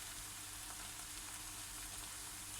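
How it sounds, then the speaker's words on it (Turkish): Steady, even frying sizzle from a pan of dried green beans being sautéed for kavurma as an egg goes in, a constant hiss with no break and no voices. "Şimdi yumurtasını ilave edelim."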